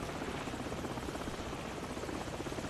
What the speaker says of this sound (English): Finally gonna take out this chopper.